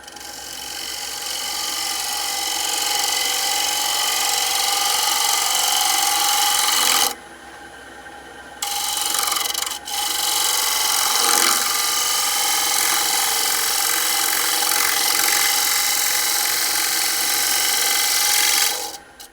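A scraper with a burnished burr shear-cutting the inside of a wooden bowl spinning on a lathe, giving a steady, loud rasping hiss with a couple of brief breaks, and no voices.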